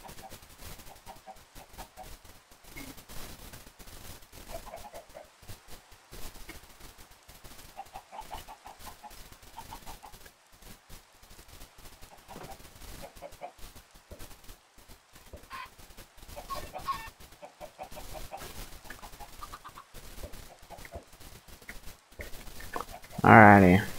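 Minecraft chickens cluck in soft, scattered bursts over a low, crackly background, followed by a louder burst at the end.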